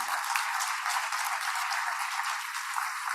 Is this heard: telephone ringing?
no